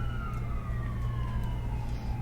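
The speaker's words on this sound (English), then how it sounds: "As we listen to the sirens behind me." Emergency vehicle sirens wail continuously in the background with slowly falling tones over a steady low traffic rumble, fairly loud and unbroken throughout.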